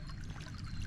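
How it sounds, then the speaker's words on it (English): Creek water trickling over rocky bars littered with broken glass in a city stream, a steady close wash of flowing water heard alone with a low rumble swelling at the end. "here's an idea of what the creek I'm looking at is"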